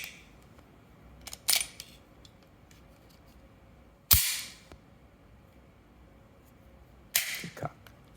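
Three sharp pistol shots from a Hellcat Pro and a P2000sk crack out one at a time, several seconds apart, each loud with a brief tail and a quiet outdoor background between them.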